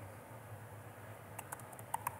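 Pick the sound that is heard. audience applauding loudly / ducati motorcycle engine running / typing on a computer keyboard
typing on a computer keyboard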